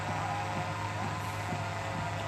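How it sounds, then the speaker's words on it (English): A drone flies overhead during a night protest at Standing Rock, giving a steady droning hum with a faint tonal whine. It is continuous and moderately loud throughout, with no talk. "The noise you hear above is a drone."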